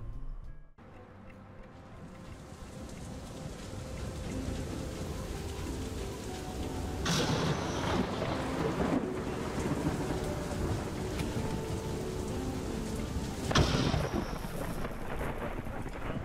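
Stormy weather in the video game FAR: Lone Sail, steady rain hiss with rumbling thunder building, two sharper thunder cracks rolling through a continuous wind-swept wash.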